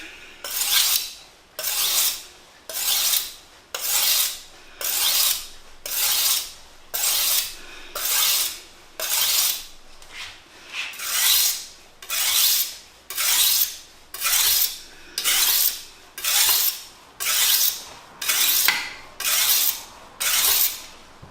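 A knife blade is drawn across a sharpening stone in steady, evenly spaced strokes, about twenty rasping passes with a short pause between each, close and loud with no talking.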